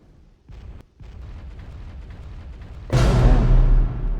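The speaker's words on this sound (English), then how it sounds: "That was a bit of a delayed explosion sound" In the video game Dragon Age: Origins, muffled rumbling and a few dull thumps come before a sudden loud, deep explosion that booms and then slowly fades.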